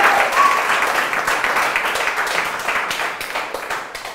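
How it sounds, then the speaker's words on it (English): An audience at a live event claps loudly and steadily in sustained applause. It starts full and slowly tapers off, with faint voices underneath. "Give yourselves a round of applause."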